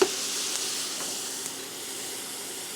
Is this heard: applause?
no